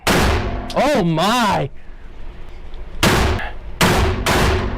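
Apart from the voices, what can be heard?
shotgun firing with a Salvo 12 suppressor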